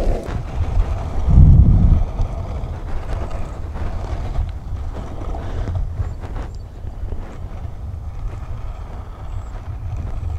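A boat running at full speed, with steady, rough engine and hull rumble mixed with heavy wind buffeting on the microphone throughout and a brief louder low thump near the start.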